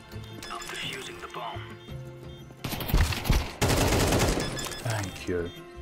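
Bursts of rapid gunfire in a first-person shooter game, loud and sustained over several seconds with a thick midsection of overlapping shots, and a player's voice talking over the action.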